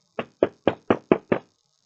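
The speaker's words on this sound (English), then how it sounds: "knocked" Six evenly spaced knocks on a door, close and clear, in a quick steady rhythm with silence before and after.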